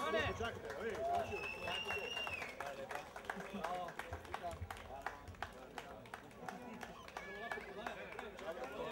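An audience at a culinary evening festival applauds the bronze ladle winners. Clapping starts faintly, then grows into steady applause, with people talking and cheering nearby.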